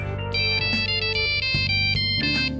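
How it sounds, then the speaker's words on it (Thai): A telephone ringtone sounds from a captured Spinosaurus in the ARK Survival Evolved Jurassic Park mod. It gives a loud, close electronic trill in repeated bursts with short gaps, played over background music with no talk. "ถ้าเราจับเจ้าตัวนี้มาไว้ที่บ้านเ นี่ยมันจะมีโอกาสที่จะมีเสียงโทรศัพท์ดังขึ้นมาด้วยนะฮะ"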